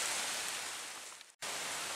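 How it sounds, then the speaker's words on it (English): Steady rain hissing continuously, fairly soft and even, with a brief dropout near the end before the patter resumes. "It started raining on us"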